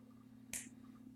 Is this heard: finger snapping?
yes